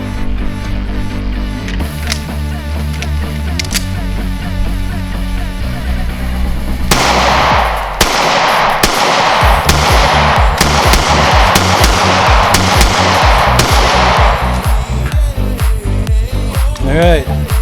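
A Springfield Armory Hellcat pistol fires a long run of sharp, loud, close shots in quick succession, starting after a quieter stretch and continuing through the rest of the passage.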